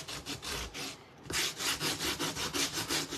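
Wood being sanded on a handmade wooden fall cat craft, close and steady, with rhythmic rasping strokes in quick succession and a brief pause partway through.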